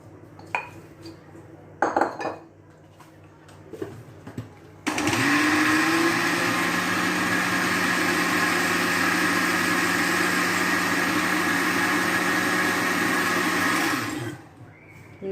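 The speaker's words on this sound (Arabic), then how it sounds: "من بعد غادي نرجعوا للمولينكس باش يتطحن لينا الخليط ديالنا مزيان" A Moulinex food processor grinding a chicken-breast crêpe filling starts after a few light kitchen clatters, then runs as a steady, loud motor whir for about nine seconds before winding down.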